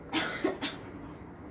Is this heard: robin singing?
no